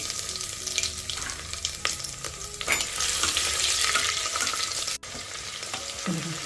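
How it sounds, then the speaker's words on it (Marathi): Bay leaf, a few peppercorns, cumin seeds and crushed garlic cloves fry in hot oil with a steady, close sizzle, broken by occasional stirring scrapes and a brief clatter near the end. "तेल गरम झालं आहे यामध्ये एक तेजपत्त्याचं पान घालते फक्त पाच मिरे जिरे छान फुलले की सात आठ लसूण पाकळ्या ठेचून घालते"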